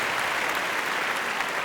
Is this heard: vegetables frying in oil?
no